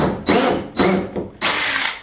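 Power drill boring pilot holes near the end grain of a wooden piece during a finca renovation in Spain, three loud bursts of whirring separated by short pauses, close and alone.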